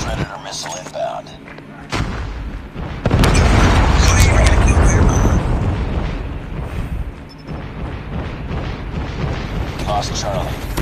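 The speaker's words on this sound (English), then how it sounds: "Friendly predator missile inbound." A predator missile strikes in a multiplayer shooter video game, setting off a sudden loud boom followed by a long, heavy rumble over game noise.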